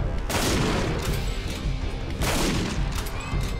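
Rifle fire in the hunting video game Dangerous Hunts 2013: two loud, booming shots with long rumbling tails, the second about two seconds after the first.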